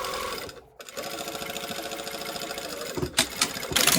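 Sewing machine understitching a slot zipper, its needle running in a steady fast rhythm close by, with one brief pause and a few louder handling clicks near the end.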